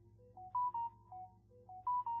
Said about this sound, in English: Oh my gosh, what's going on with my phone?